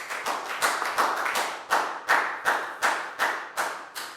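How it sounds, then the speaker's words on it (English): Students in a Year 4 maths lesson clap for a classmate, a rhythmic run of about a dozen sharp claps that speeds up at first, then settles into a steady, fairly close beat with no talking. "a big round of applause for Down"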